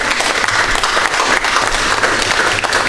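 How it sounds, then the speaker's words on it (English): A meeting room of Nigerian standards technical committee delegates breaks into a round of applause, dense and loud clapping that carries without a break from start to finish. "can we just give a round of applause?"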